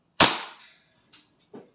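An EMG Pit Viper John Wick 4 licensed airsoft gun firing into a chronograph: one sharp, loud crack with a short ringing tail, then two fainter follow-up snaps.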